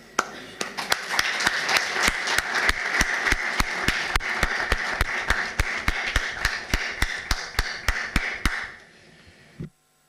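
An audience applauds after a panel speech at a business session, with loud, steady clapping in an even, evenly spaced rhythm that continues for several seconds and then stops abruptly.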